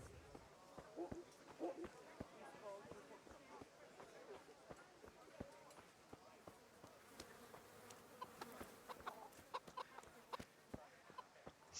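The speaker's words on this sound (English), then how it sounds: "Sorry, chickens." Chickens cluck in the medieval village game Kingdom Come: Deliverance, a faint, busy scatter of clucks and buzzing ambience running throughout while someone talks over it.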